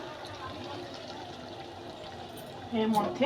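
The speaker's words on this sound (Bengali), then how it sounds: "এই গরম জলটা অ্যাড করে দিচ্ছি" Hot water is poured into a pan of chicken curry, arriving as a short, loud splashing pour near the end after a stretch of quiet background, with someone talking throughout.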